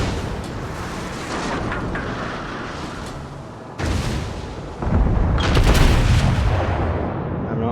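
Heavy naval gunfire from a Tier 7 US Colorado battleship in World of Warships, a dense rumbling barrage of booms with a sharp salvo near four seconds and a louder, sustained blast near five seconds.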